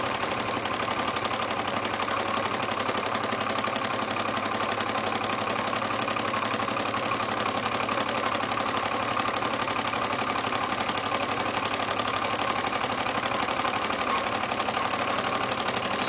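A small Grizzly H8102 Stirling engine runs steadily over a flame, giving a continuous close whirring, fast mechanical ticking at an even rhythm with no pauses.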